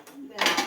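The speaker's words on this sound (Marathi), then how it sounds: "तवा थोडा अगोदरच गरम करायला ठेवूया" A metal tawa, an iron griddle, is set down on a stove with a short scrape and a clatter of metal. The sound is close and brief, with no talking.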